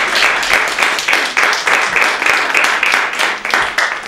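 An audience at a comedy show claps in strong, somewhat rhythmic bursts that swell and dip, many hands close and loud for about four seconds with no voices over them.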